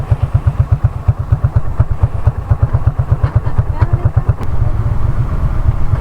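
A motorcycle engine pulses with a slow, heavy thumping idle and then revs into a steadier drone, close by on a rough riverside trail.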